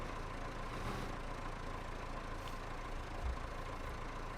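A tractor engine in a farming video game idles steadily, a low continuous rumble with no talk.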